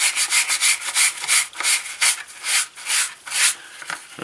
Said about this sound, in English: I'll just kind of give it a good buffing out with a brush. This is just a fairly soft bristled brush.